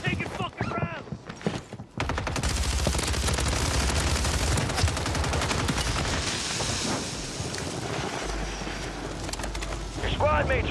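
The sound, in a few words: gunfire in the video game Warzone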